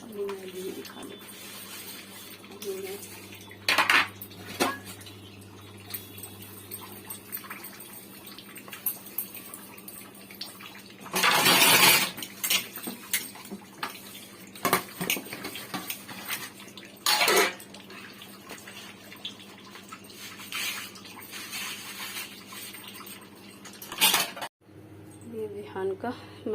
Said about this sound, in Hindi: ये देखिए बर्तन थोड़े निपटा दिए हैं, थोड़े से बचे हैं, तो ये भी अभी धुल देंगे